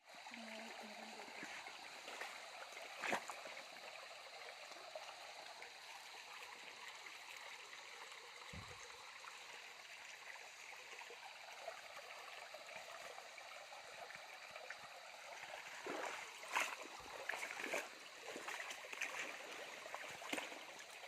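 Stream water flows steadily on a trail toward a tall waterfall, a constant broadband rush with occasional splashes, fairly faint and continuous throughout.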